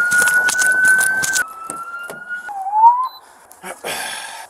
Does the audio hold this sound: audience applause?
no